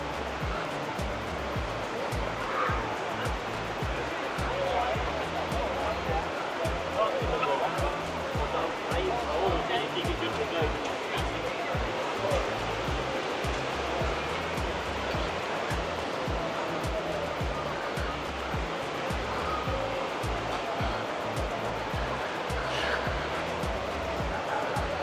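Choppy sea waves break on Levante Beach in Benidorm as a steady, loud wash of surf that rolls on without pause, with faint crowd and traffic noise mixed in.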